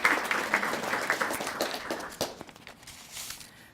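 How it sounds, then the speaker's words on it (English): Audience applause breaks out at a community event, loud and dense at first, then thinning out to scattered claps. "So please give them a round of applause."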